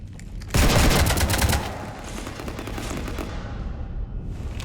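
Heavy gunfire in the video game Mass Effect 3, a loud burst of rapid automatic shots that fades into a sustained rumbling battle din, with no talking.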